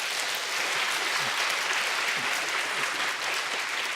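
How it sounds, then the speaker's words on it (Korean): A church congregation applauds after the choir's anthem at a 40th-anniversary Sunday service, steady dense clapping filling the room evenly and continuously throughout, with no voices over it. "우리 감사와 격려의 박수 한번 드리겠습니다."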